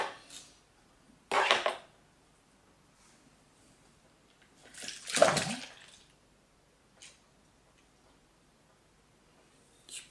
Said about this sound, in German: Ich spüle noch mal ein bisschen aus